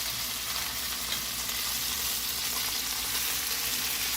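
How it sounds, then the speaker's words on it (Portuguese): Beef chunks for boeuf bourguignon sear in a hot pan with a steady, dense sizzle and crackle, close and continuous with no talking. "vocês podem ver que a carne já está selando"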